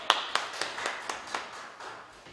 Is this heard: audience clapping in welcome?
yes